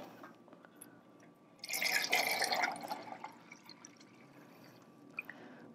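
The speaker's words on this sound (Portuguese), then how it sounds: "Vou começar aqui, ó, com a jarra cheia d'água e vou encher a primeira" Water from a full jug pours into a can in one splashing burst of about a second, then fades into faint trickles and drips. The sound is quiet and close, with no talking.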